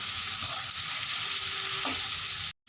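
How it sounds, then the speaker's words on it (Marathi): Onion sautéing with mustard seeds in a pan for papad chutney, an even, loud close-up sizzle with a light stir partway through that cuts off abruptly just before the end. "अर्धा चमचा मोहरी टाकायची आहे त्यानंतर कांदा आणि कांदा छान थोडासा लाल तर होईपर्यंत परतून घ्यायचा"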